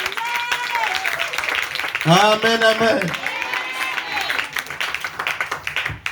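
Congregation clapping in a French-speaking church service, a burst of applause with cheering voices rising under a preacher's spoken words.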